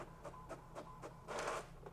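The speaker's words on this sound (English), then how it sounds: "And it's starting to print." An HP printer starts printing a shopping list, giving a soft, repeated mechanical whirr in short pulses that swells into a louder, longer feed near the end, fairly close and with no talk.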